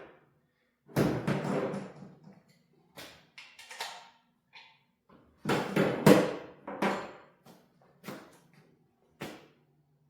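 Bolts on a 383 engine for a rat rod build are torqued down, giving scattered metallic clicks, knocks and thuds in short irregular bursts, close by in a quiet workshop with no talking.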